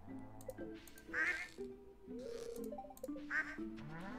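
Ducks in the farming video game Stardew Valley quack several times in short nasal bursts. Game music and tones play quietly underneath.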